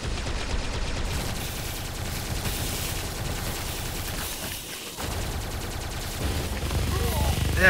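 A rapid Tesla gun fires continuously in Tesla vs Lovecraft, a dense, loud stream of electric shots with a short dip partway through, layered over game music and effects.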